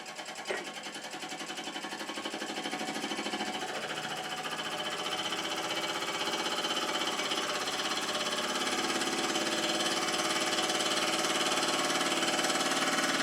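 A Mamod TE1 toy steam engine chugs in a fast, steady mechanical rhythm, running continuously and gradually growing a little louder.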